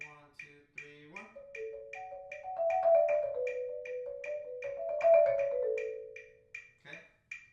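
Mallet etude on a keyboard percussion instrument played against a clicking metronome, a sustained rolled line swelling louder and then fading between soft passages, with the metronome ticking steadily throughout and a brief voice near the end.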